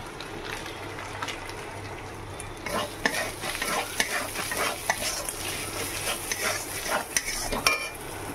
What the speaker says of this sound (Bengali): খুব ভালো করে আমি মশলাটা কষে নিয়েছি